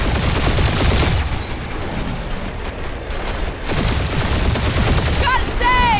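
Heavy turret gunfire in a Guardians of the Galaxy game battle, dense sustained bursts and booming volleys filling the scene, with chirping laser-like tones near the end and some voices underneath.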